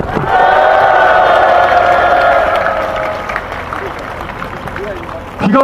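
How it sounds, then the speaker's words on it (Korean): A large crowd at a political rally cheers and claps loudly, the applause swelling then gradually fading over several seconds. "우리 모두를 위해서 힘찬 박수 한번 쳐주십시오."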